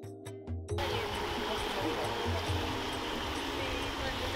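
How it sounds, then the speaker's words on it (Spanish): The Toro river in the Chanchamayo jungle rushes as a steady, dense roar of flowing water that swells in after a brief quieter moment and then holds loud and unbroken. "Ahora mismo ya estamos escuchando el río, parece que está muy cerca."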